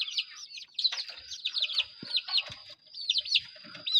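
Young game chickens make quick, high, chirping peeps close by in irregular bursts, with a few soft low knocks underneath.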